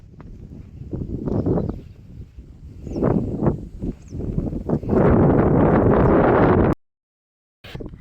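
Strong wind buffets the microphone outdoors at a farm, roaring in loud gusts with rustling bursts, building to a sustained blast before cutting out briefly.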